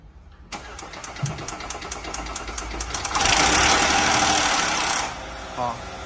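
A Volkswagen Touareg engine cranks and fires after a turbocharger repair, catching after a short burst of starter clicks and then rising into a loud, rough idle that settles. Someone speaks briefly near the end.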